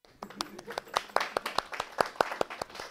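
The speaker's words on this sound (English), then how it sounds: "Let's everybody clap." A lecture-hall class claps in a steady, fairly sharp rhythm of about a dozen hand strikes, close by, with a murmur of voices underneath.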